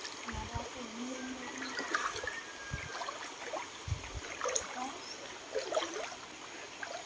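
A shallow provincial river flows steadily, a soft, continuous wash of running water heard fairly close, with faint scattered splashes and small knocks over the top.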